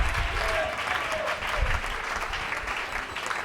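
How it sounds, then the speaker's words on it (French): A church congregation applauds and cheers, dense sustained clapping with crowd voices filling the space, steady and loud throughout. "Si tu as ta voix, acclame"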